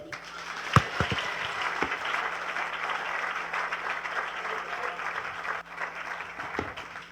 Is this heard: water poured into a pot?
no